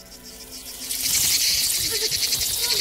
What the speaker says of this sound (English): The cicadas are back?